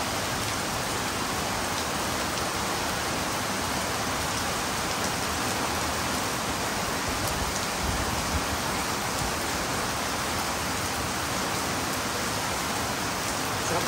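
Steady rain falls through a rainy morning, likely during a storm, as a dense, even hiss of drops that continues unbroken throughout.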